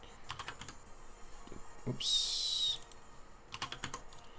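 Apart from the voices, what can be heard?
typing on a computer keyboard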